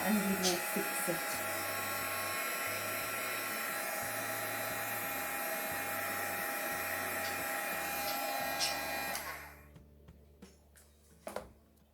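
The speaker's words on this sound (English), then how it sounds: "I'm just going to go over that with my heat gun and we will fix it" A heat gun melts embossing powder on a paper tag, blowing a steady, close, loud whooshing roar for about nine seconds before cutting off, leaving faint handling clicks.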